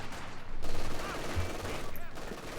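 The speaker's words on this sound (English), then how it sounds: "MG's gonna shred those conscripts." Machine-gun fire rattles through a real-time strategy match as an MG team shreds conscript infantry, rapid bursts mixed with other battle noise and a commentator talking over it.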